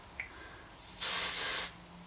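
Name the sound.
Oribe Dry Texturising Spray being sprayed onto hair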